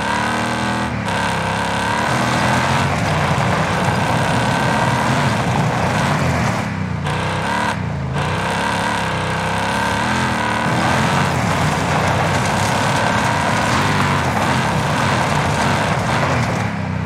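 Video game vehicle engine in Warzone, a steady loud drone with shifting pitch as it is driven, continuous throughout with a couple of brief dips.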